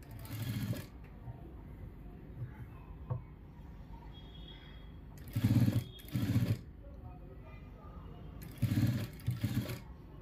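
Sewing machine stitching along readymade piping on fabric, heard in three short close bursts separated by quieter gaps.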